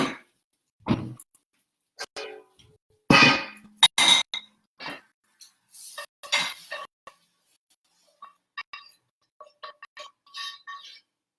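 Kale being taken out of a pan while making a vegan omelette: scattered metallic utensil clangs and clinks against the pan, several sharp knocks in the first half and lighter taps later, close and fairly loud, no talking.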